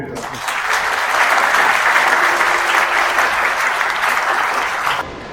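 Steady applause from wedding guests at a ceremony in the Korea Design Center convention wedding hall, rising quickly and holding at an even, full level for about five seconds before cutting off.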